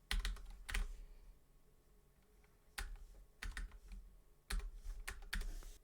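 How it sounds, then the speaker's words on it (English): Quiet computer keyboard typing for a Roblox game animation ID, in short bursts of rapid clicking keystrokes separated by pauses, close and moderately loud with no talking. "then you're gonna type your ID into here"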